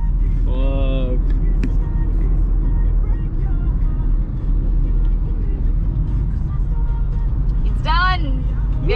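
A car cruising across the Sea Link bridge, a steady loud road and engine rumble filling the whole stretch, with people talking and a couple of melodic vocal sounds over it.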